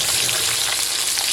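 Fish fries in hot oil in a pan, giving a loud, steady crackling sizzle heard close up and alone, without any talking.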